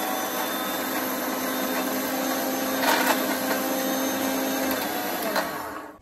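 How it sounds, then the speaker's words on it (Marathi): A mixer grinder blends roasted onion masala paste in a home kitchen, a steady loud whir running continuously at close range for about six seconds before cutting off at the end. "तर चला आता हे वाटून घेते मी मिक्सरला."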